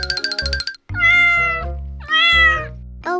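A cat gives three or four loud, close meows in quick succession, each drawn out and clear with nothing else heard.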